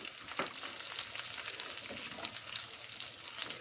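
Raisins and coconut roasting in a pan for caramel sheer khurma make a busy, continuous close-up sizzle with small crackles as they are stirred, with no talking.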